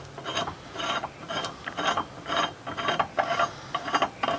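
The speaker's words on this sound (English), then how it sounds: "take your adjustable wrench, loosen the nut in the middle, and unscrew it by hand" An adjustable wrench works a nut on a bicycle crank removal tool for a square taper crank, giving quiet repeated ratcheting, scraping metal clicks in an uneven rhythm, close up with no talk.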